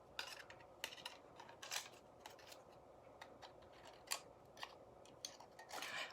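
Scissors snip through a thin tin Dollar Tree cookie sheet, cutting from the center outward for a sunflower craft, giving faint, scattered metallic clicks and crisp snips at an irregular pace, with no talk.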